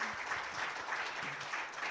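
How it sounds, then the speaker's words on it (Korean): Audience at an open-source software conference applauding after a talk, a steady wash of clapping with faint voices and tonal murmurs underneath throughout the short stretch. "큰 박수 부탁드립니다"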